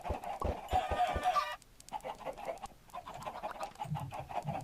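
Chickens cluck in a Minecraft farm during a team battle game, with a burst of short clucks and squawks early on, then fainter scattered clucking against quiet game background sounds.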